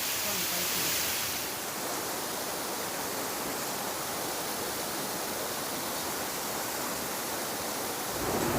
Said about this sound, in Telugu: ఈ వాటర్ ఫాల్స్ చూడండి